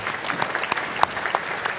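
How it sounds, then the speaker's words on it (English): Applause from an audience at an awards gala dinner, a steady patter of many clapping hands with a few sharper claps standing out, fairly close and continuous throughout. "we give you our applause, our congratulations"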